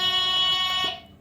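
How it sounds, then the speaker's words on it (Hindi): A black game buzzer button on a kids' competition table is pressed, giving a steady electronic buzzing tone that holds for about a second before cutting off. No voices accompany it. "और जो बजर है तुम लोग के आगे जो लगा हुआ है वो जो ब्लैक दिख रहा है ना, और उसको एक्टिवेट कर दिया गया है"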